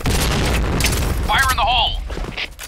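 A grenade goes off in a Point Blank online shooter match, a dense roaring blast filling the first couple of seconds, followed by thinner tonal game effects and lingering noise.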